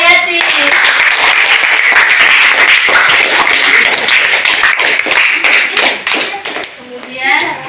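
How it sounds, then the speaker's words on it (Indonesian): Students clap together for a classmate during a Qur'an Hadith practice-teaching lesson at an Islamic boarding school, a loud burst of crisp, rapid handclaps that thins out toward the end. "Tepuk tangan untuk Nur Hayati."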